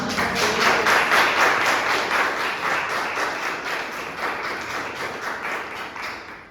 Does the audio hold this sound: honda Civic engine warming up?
no